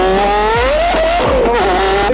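Porsche Carrera GT supercar engine screams through a high rev, pitch climbing smoothly, dipping briefly on a shift and rising again, loud and close with no talk.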